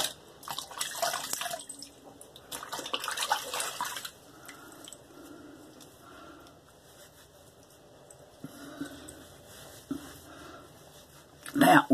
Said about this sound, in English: Hold on, I'm going to rinse off and I'll be right back.